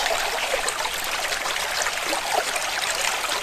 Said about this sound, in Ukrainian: Шумить струмок.